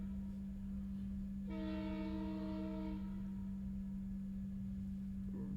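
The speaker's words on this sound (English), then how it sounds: "You are a noisy train." A passing train sounds its horn in a long chord of about a second and a half over a steady low rumble and hum, heard at a distance and fairly faint, with no talking.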